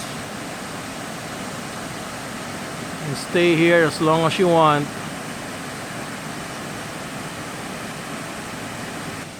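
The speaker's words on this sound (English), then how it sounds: "while enjoying the music of the waterfalls." A waterfall in a jungle-like forest on Jeju Island gives a steady, even rushing roar throughout, with a person speaking briefly over it midway.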